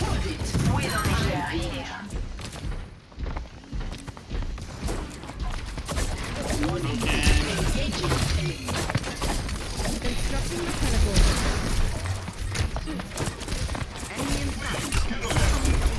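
Rapid gunfire and impact sounds from an Overwatch 2 match, dense bursts of clattering shots and hits throughout, with a voice talking over the action.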